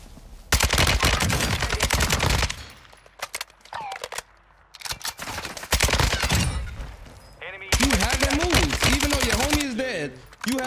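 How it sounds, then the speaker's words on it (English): Rapid automatic gunfire bursts in the video game Warzone 2 come up close and loud, several rattling strings broken by short pauses, with a voice speaking among the shots. "Where am I getting shot from?"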